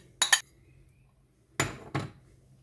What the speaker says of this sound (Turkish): Şimdi sadece çatalla bunu karıştırıyoruz.